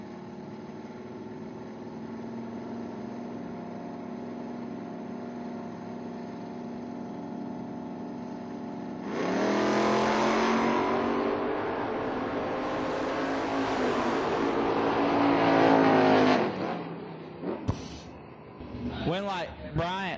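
Drag racing cars at Kentucky bracket eliminations idle at the line, then launch with a loud roaring surge that climbs in pitch for several seconds before backing off, with a voice talking underneath.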